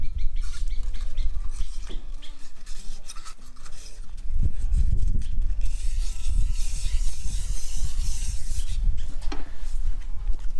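Wet sandpaper rubs back and forth against a hard terrazzo tabletop in a steady scraping rhythm, close by, with occasional louder strokes.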